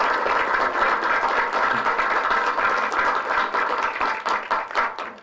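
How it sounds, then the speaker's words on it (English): Audience at a village anniversary celebration applauding, a steady spread of hand clapping at moderate volume that thins out toward the end. "you should give each other a round of applause for your wonderful contribution"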